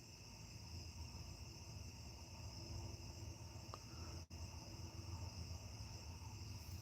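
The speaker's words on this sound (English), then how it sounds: "I can actually hear all the little crickets" Faint, steady chirping of crickets in a quiet night-time background, continuous and distant, with no talking.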